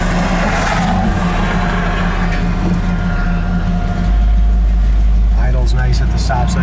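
A 1967 Chevy C10 pickup drives and accelerates, a rough engine note rising into a deeper, louder roar partway through, with people talking over the motor.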